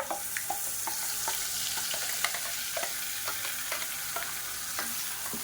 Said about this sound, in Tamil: இப்போ பாருங்கள், கடுகு கருவேப்பிலை நல்லா பொரிய ஆரம்பிச்சிருச்சு.